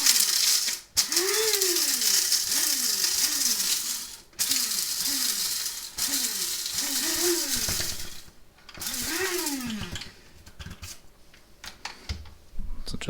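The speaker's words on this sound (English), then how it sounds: "I'm going to throw it into the coffee grinder" Coffee grinder grinding up to half a tablespoon of whole coffee beans very fine, with a loud, close buzzing whir in repeated pulses, its pitch rising and falling as the beans break down, followed by quieter rattling.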